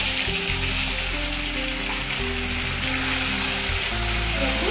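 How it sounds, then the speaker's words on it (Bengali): Onion, ginger and garlic paste fries in hot oil in a kadai for a fried chicken curry, producing a loud, steady, close sizzle that holds throughout without talk. "এই দেখুন কড়াইতে এই যে তেল আছে, তো এর ভিতরে আমি এই যে পেঁয়াজ, আদা, রসুনের যে পেস্ট বলেছিলাম সেই পেস্ট আমি দিলাম।"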